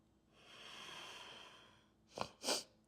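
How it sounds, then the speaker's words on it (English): A long, soft intake of breath through the nose, followed by two short, sharp sniffs close by. "Oh, sniffing here, sorry about that."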